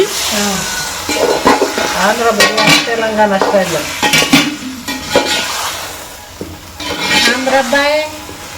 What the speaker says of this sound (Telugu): సో ఇప్పుడైతే టమాటాలు అయితే వేసేసుకుంటున్నాం ఫ్రెండ్స్ ఒక ఐదు తీసుకున్నాం పెద్ద సైజు